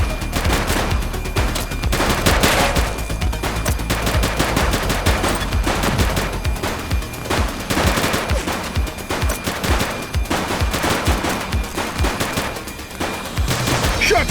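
Sustained heavy gunfire from The Precinct, a police video game, with rapid automatic bursts and overlapping shots filling the whole stretch, loud and dense with little pause.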